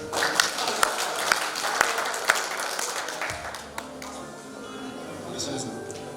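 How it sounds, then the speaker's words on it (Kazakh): An audience claps together at a school gathering, with a brisk rhythmic burst of applause that thins and fades after a few seconds, while voices carry on underneath. "Қол шапалақ."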